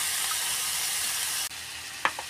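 Pure Foods corned beef sizzles in a pan with a steady hiss that dips briefly, followed by a couple of quick stirring scrapes near the end.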